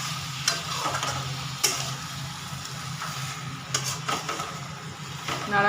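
Cabbage ghonto with ghee and garam masala being stirred in a frying pan, giving a continuous sizzle with intermittent scraping clacks of a utensil against the pan at irregular intervals, close and moderately loud.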